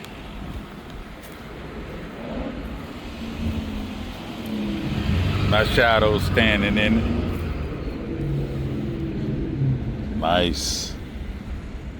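Road traffic rolls past in the background at an outdoor motorcycle bike night, a continuous low rumble with wind noise on the microphone and a passing vehicle swelling midway, while people talk nearby.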